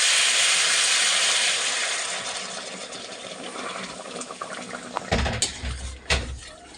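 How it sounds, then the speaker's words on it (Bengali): Broth is poured into a pan of egg and potato curry, making a loud, steady rushing hiss that gradually fades, followed by a few clattering knocks at the end. "এখন আমি ঝোলটা দিয়ে দেবো এর মধ্যে"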